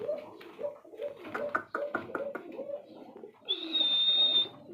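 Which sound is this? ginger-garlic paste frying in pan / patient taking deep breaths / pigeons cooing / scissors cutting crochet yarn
pigeons cooing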